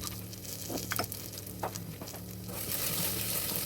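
Peanuts, clove, cumin and coriander seeds with red chilies sauteing in a pan on low flame, a soft steady sizzle with light patter and faint stirring taps, close and quiet throughout.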